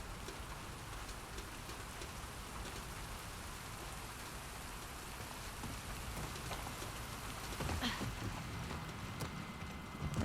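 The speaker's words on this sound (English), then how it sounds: "It's got this pulsating downpour." Steady, dense downpour of rain in The Last of Us Part 2, a constant hiss of drops hitting surfaces with a slight swell in intensity near the end, with no voices.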